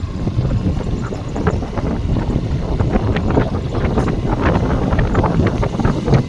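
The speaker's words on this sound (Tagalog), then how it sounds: "Pinapatpat kami ng hangin." Strong wind buffets the microphone at a government housing site in Trece Martires, Cavite, in a continuous, low rumbling roar with gusty bursts, steady and loud throughout.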